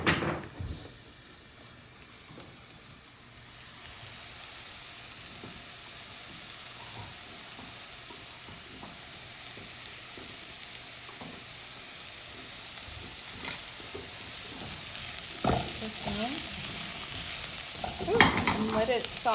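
Garlic softening in a pan with red pepper flakes and salt gives a long, even, close sizzle, with faint stirring clicks now and then and a few louder scrapes near the end.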